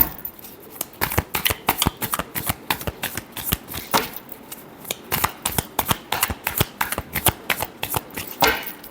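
Tarot cards are shuffled by hand close up. Quick, crisp riffles and slaps come in an uneven, busy rhythm with no voices.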